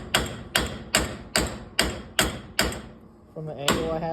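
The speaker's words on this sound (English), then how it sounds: "it looked like you straight just beat the splines" Sharp metallic hammer blows strike the splines of a 1998 Jeep XJ hub assembly, about seven evenly spaced loud hits close by, followed by a brief voice.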